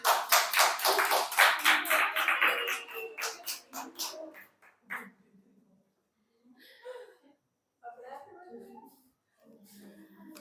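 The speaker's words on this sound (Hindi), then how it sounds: "ये ताली बजा दो चलो।" Students in a classroom clapping together, a quick rhythmic run of claps that fades after a few seconds into quiet with scattered voices and light rustling.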